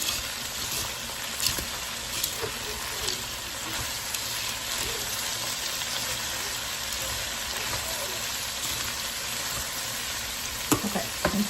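Egg noodles and bacon fry together in a pan, making a dense, constant sizzle close to the listener, with occasional stirring clatter and a few sharper knocks near the end.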